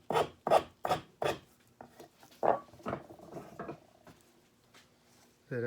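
A spokeshave with a freshly sharpened iron rasps across wood, taking fine shavings in about five quick rhythmic strokes followed by softer, slower passes, close and fairly quiet.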